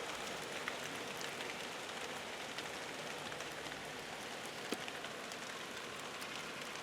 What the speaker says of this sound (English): Just to hear rain falling.